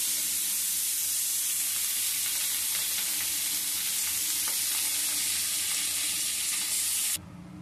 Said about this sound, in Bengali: আবারও বাদবাকি মাছটা আমি দিয়ে ভেজে তুলে নিচ্ছি।